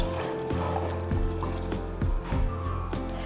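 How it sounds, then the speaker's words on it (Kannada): About a glass of water pours into a pressure cooker holding gooseberries for dal, a close, continuous splashing stream with a few gurgling surges and no talking. "1 ಕಪ್ಪಷ್ಟು, 1 ಗ್ಲಾಸಷ್ಟು ನೀರು ಹಾಕ್ತಾ ಇದ್ದೀನಿ ಇದಕ್ಕೆ."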